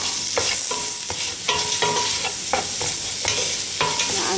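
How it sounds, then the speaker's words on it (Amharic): Onions dry-fry in a pan without oil for a beef stroganoff made without cream. A close, constant sizzle is broken by regular scraping strokes as they are stirred, with no voices. "ሽንኩርቱን እንደዚህ ነው እናብላለን ማለት ነው።"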